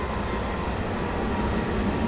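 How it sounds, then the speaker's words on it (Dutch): A train approaches from behind in Train Simulator 2015, a steady broadband rumble of rail noise that stays constant and close throughout, with no speech. "Hey, er komt dus een trein achterna."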